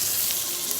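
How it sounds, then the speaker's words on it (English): Chicken fries in a hot pan with a dense, continuous sizzle and crackle, loud and close, with no talking. "My chicken is going. Chicken is sizzling."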